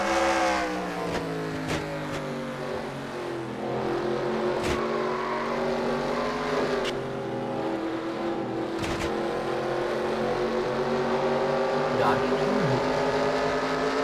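Stock cars roar around the track in a NASCAR-style racing video game at the Coca-Cola 600, with layered engine drones shifting pitch through a wreck and a voice talking over the steady racing noise.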